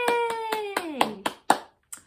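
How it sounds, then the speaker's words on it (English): Hands clap in a steady, even beat, about one clap every quarter second, alongside a woman singing a children's song in a kids' music class. "We're gonna clap it, clap it, clap it, clap it."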